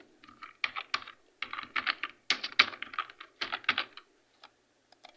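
A name is typed on a computer keyboard in quick, irregular bursts of close clicking keystrokes with short pauses between them, ending in a few isolated taps.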